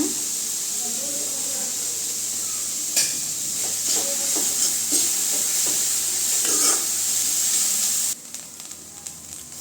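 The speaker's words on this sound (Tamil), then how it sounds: "கேரட் அடிக்கடி இப்படி கிண்டி விட்டுக்கலாங்க இன்னும் கொஞ்ச நேரம் வேகட்டுங்க" Grated carrot poriyal sizzles and hisses steadily in a pan, with scattered scraping and clattering from stirring throughout; a short quieter stretch near the end.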